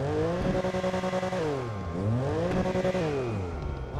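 Stock-exhaust Lamborghini Huracan engine revving up close, its pitch climbing and falling back twice in quick, loud sweeps with no talking.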